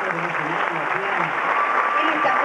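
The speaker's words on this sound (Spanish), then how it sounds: "Vamos a recibirlo con un aplauso." Audience applause welcoming an honoured guest at a municipal theatre tribute, a thick wash of clapping with a voice speaking over it.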